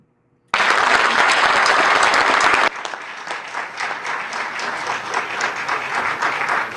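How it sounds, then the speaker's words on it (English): An audience at a debate claps loudly and densely after a brief silence, then the applause thins into looser, lighter clapping that carries on to the end. "Okay, a lot of clapping."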